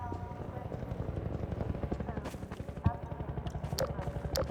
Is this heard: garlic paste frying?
no